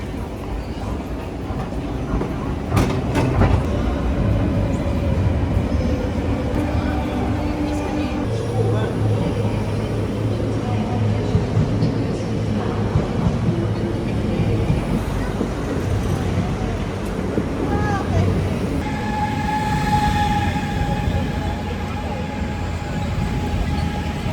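Constant rumble inside a first-class Deutsche Bahn train between Amsterdam and Cologne, with a low steady drone, occasional clunks and a brief tonal hum later on.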